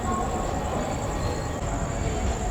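The 22204 Duronto Express runs out of Secunderabad beneath a metro line, a loud steady rumble of wheels on rails with a faint high squeal above.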